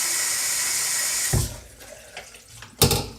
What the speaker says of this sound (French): Hop, je fais couler de l'eau.